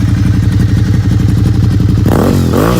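A Suzuki SV650 V-twin motorcycle engine thumps loudly up close with an uneven, lumpy idle pulse, then is blipped into a couple of quick rising revs.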